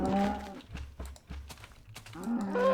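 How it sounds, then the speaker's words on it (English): Cattle mooing in Minecraft with a mod installed, several low drawn-out moos with tonal overtones, a short pause between them, then another moo rising near the end, fairly close and with no talking. "I don't remember cows sounding like this."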